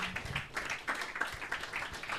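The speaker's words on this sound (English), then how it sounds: "Please let's put our hands together for our panelists once again." Faint, quick applause from an audience for a panel of speakers at a scholars' convening, scattered hand claps that stay soft and distant throughout.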